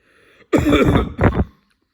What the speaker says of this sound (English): I didn't have enough time to talk because I coughed